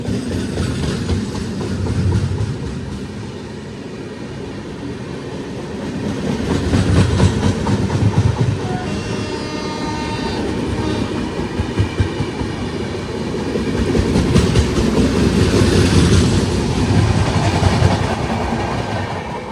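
Thiruvananthapuram–Chennai Superfast Express train running, a steady close rumble and rattle of the carriages with rhythmic clickety-clack over the rails, swelling and easing in loudness throughout, no voices.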